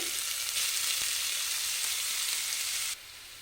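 Crushed onions fry with cardamom pods in hot oil in a pan, giving a loud, even hiss of sizzling that runs steadily, then drops sharply in volume near the end.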